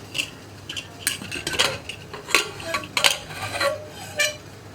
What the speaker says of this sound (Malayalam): ഇപ്പോൾ നമ്മുടെ കുക്കറിൻ്റെ പ്രഷറൊക്കെ പോയിട്ടുണ്ട്. നമുക്ക് തുറക്കാം.